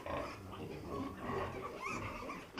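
Piglets grunt and squeal continuously in a busy cluster, a dense, close mix of snorts and feeding noises with no pauses.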